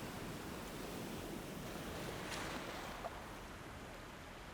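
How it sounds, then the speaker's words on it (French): Waves crash against rocks at the sea, a loud, steady broadband wash of surf that swells slightly around the middle, heard alone with no voices. "Le bruit assourdissant du fracas des vagues contre les rochers l'isolait du reste du monde."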